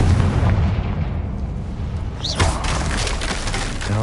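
A Confringo explosion spell in a video game goes off as a heavy booming blast midway through, after a low rumbling background, followed by a shattering, crackling tail.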